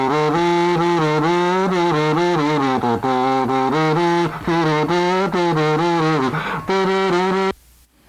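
Kazoo run through a tube and tape saturation circuit, playing a buzzy, harmonic-rich melody in steady phrases for about seven seconds before cutting off, loud and alone with no talk.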